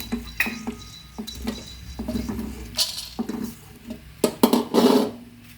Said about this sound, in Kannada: ಕಾಳುಮೆಣಸು ಎಂಟರಿಂದ ಹತ್ತು ಹುರ್ಕೊಳ್ತಾ ಇದ್ದೀನಿ